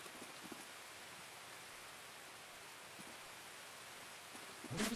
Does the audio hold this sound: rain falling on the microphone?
yes